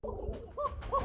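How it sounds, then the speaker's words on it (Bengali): A Koka pigeon cooing at close range, a few soft throaty coos in quick succession over low background hum. "এই টাইপের কোকা কবুতর, খুব সুন্দর ডাকে"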